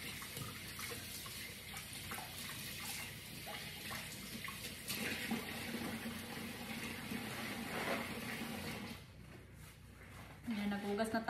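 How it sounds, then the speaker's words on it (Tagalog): Hands washed under a running kitchen tap while making homemade meatballs, with a steady close water stream and splashing that changes as the hands move, and a voice talking over it. "I'm going to wash my hands."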